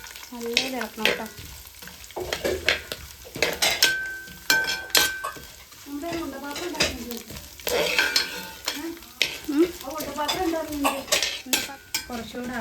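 Coconut and curry leaves fry in a pan while being stirred, cooking for Pesaha. A close, continuous sizzle runs throughout, broken by repeated spoon scrapes and light metallic clinks against the pan.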